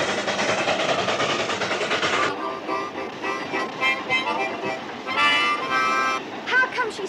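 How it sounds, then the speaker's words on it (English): A steam locomotive runs on rails with rhythmic chuffing and rolling clatter, heard moderately close behind a music score, with talk breaking in partway through. "And he's letting your child drive this locomotive?"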